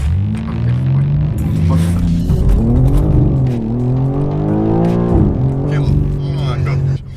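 A BMW M4 G82 launching hard toward 100 km/h with its tyres scrabbling for grip, a loud, steady engine roar rising and falling in pitch under continuous talk.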